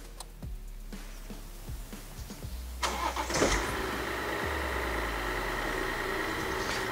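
A car engine cranks with a few short starter bursts, then catches and settles into a steady, loud idle, recorded close by during a battery charging test.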